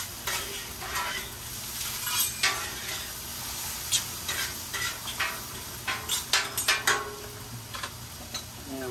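Steak, shrimp, zucchini and onions get stirred on a hot Blackstone griddle. Steady sizzling runs under a series of scraping, clicking spatula strokes that grow busier toward the end, and nobody talks.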